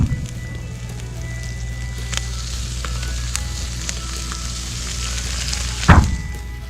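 Shishito peppers blister on an Arteflame grill, a dense, steady sizzle heard up close with scattered crackles and pops, then a sharp thunk near the end.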